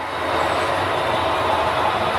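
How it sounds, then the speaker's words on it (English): A model steam train rolls along the Granite Gorge and Northern model railroad layout, giving a continuous, fairly loud mechanical rumble and rattle with no pause and no speech. "There comes the steamer, he goes that way."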